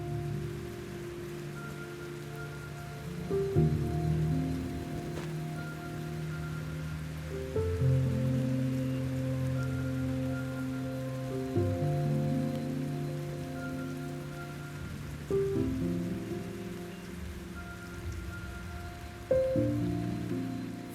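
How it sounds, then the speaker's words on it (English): Steady rain falling in a forest patters and drips in the background beneath sustained, slowly shifting tonal music. "For the forest, rain is a necessary relief."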